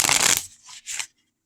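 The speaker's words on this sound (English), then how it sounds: "And let's see how it ruffle shuffles." A Light Seers Tarot card deck is ruffle shuffled, giving a loud burst of riffling card flutter followed by two shorter softer riffles and a brief tap, close up with no talking.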